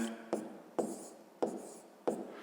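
A pen writes numbers by hand on paper during a fifth-grade math exercise: four quick scratchy strokes at a steady pace, close and quiet, with no talking.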